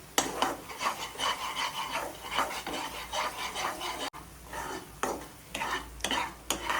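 Gram flour roasting in a pan for mohanthal, stirred in repeated rhythmic scraping strokes against the pan bottom over a faint sizzle, with a short break midway before stirring resumes.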